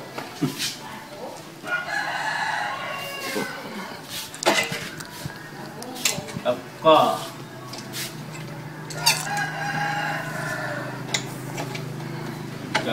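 Fighting cocks crow repeatedly at a Thai gamecock camp, several drawn-out calls rising over steady background noise while someone talks nearby.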